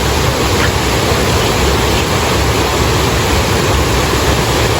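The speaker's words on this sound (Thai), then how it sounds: "น้ำตกสวยมากค่ะธรรมชาติ" The Chet Sao Noi waterfall at Muak Lek, Saraburi, gives a loud, steady roar of rushing water up close, an unbroken hiss that fills the whole moment without any talking.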